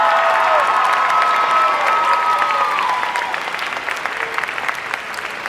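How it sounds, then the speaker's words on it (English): An audience applauds debate participants at a senior high school debate, dense sustained clapping with a few cheers, strong at first and gradually thinning toward the end, no talking. "How about a round of applause again for all of these outstanding young leaders?"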